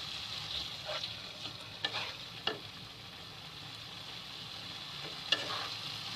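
A beaten mixture stirred into hot ghee in a pan for egg curry, a soft steady sizzle with a few light scraping strokes and a clink, no speech.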